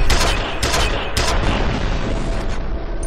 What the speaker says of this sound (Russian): взорвалось